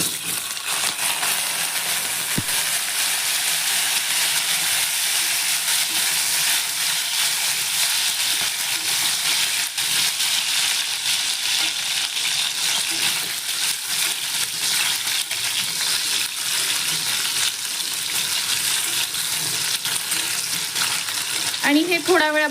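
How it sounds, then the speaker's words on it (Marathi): Potatoes for Kashmiri dum aloo fry in hot oil toward golden brown, a loud, unbroken sizzle carrying through the whole stretch, with a few light clinks close to the end. "आणि हे थोडा वेळ आपण फ्राय होऊ देणार आहोत. बटाट्याला छान गोल्डन ब्राऊन कलर येईपर्यंत."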